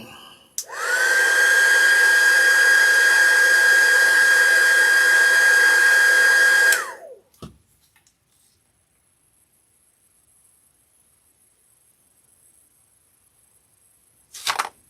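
A hair dryer blows on wet paint, a steady, loud, high whine running about six seconds before cutting off, followed by near silence, a small clatter and a brief burst of noise at the end.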